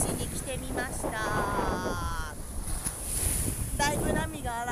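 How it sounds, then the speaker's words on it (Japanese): Rough ocean waves at Puka Beach on Boracay, surging and washing under buffeting wind, while someone talks over the surf throughout. "だいぶ波が荒いですけど"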